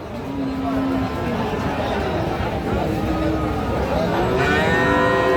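A bull calf at a Raniganj cattle market lets out a loud, drawn-out moo close by, with people talking and the murmur of the market around it.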